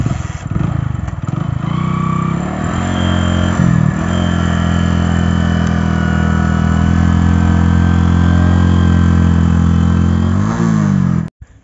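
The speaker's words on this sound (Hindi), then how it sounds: "तो भैया आ रहा हम मोटरसाइकिल चलावे जा रहा है" A Bajaj CT 100 motorcycle engine runs steadily and loudly close by, holding a continuous even drone with a few brief revs near the start before cutting off at the end.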